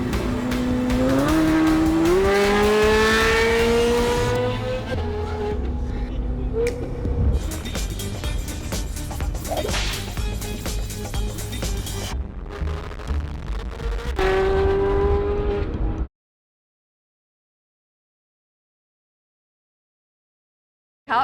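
A Ferrari F430 supercar engine revs hard, rising in pitch through several gear changes, with loud, close acceleration and roaring passes; a sudden cut to silence follows near the end.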